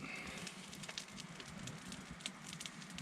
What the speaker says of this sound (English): decided to sit by the campfire for a little bit